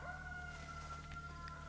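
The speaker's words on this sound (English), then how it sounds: "I hear a rooster crowing." A rooster crows in the farming life-sim game Palia, a faint, steady call held under ambient game music and tones, with no talk over it.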